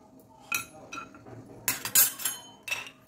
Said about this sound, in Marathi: मी कढईत टाकून घेते 8-10 बदाम टाकून घेते